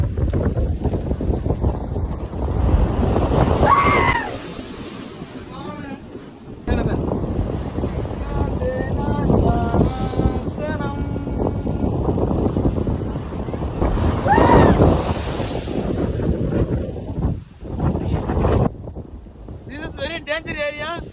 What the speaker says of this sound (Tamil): அந்த சைடு அடிக்கிற கடல் தண்ணி அதை வந்து இந்த சைடு தெரிக்குதுங்க.